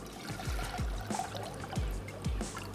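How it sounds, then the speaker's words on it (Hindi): Water pours into a pot of lentils as they cook, trickling steadily at close range, with short repeated low splashing pulses and no voices. "तो चलें इसमें ऐड करते हैं पानी"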